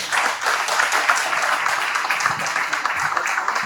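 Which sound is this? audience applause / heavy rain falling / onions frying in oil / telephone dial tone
audience applause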